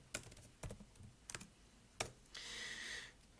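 Typing on a computer keyboard: a few sharp, separate key clicks spaced apart, then a short faster burst near the end, close and quiet with no speech.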